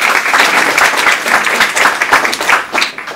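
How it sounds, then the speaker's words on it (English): Audience giving a round of applause, dense continuous clapping from a crowd filling the whole moment, loud and close. "Big round of applause."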